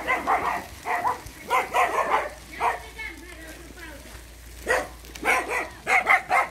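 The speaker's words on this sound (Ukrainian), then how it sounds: "Да, собачки гавкали, да?" Dogs bark in repeated short bursts, moderately close, over an outdoor road scene with people talking and a child nearby.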